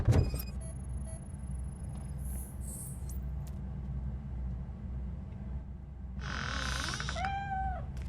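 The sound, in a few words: cat meowing in the video game Robocop Rogue City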